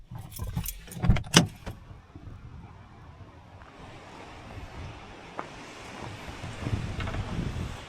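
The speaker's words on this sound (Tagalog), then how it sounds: "Malakas yung hangin, pero okay lang." Strong wind buffets the microphone at a lakeside in Waterton, a steady roar of gusts after a few sharp clinks and jangles near the start, with no talk heard.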